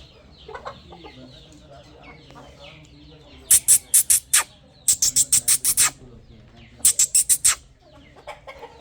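A rooster clucks in bursts: a few soft scattered calls, then three rapid runs of sharp, loud repeated clucks close by, with faint background noise between.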